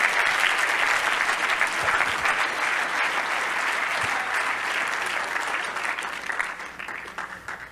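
Congregation clapping hands during a church service, a steady dense roar of applause sustained throughout and tapering slightly toward the end.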